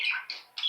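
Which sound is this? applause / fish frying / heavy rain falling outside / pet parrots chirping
pet parrots chirping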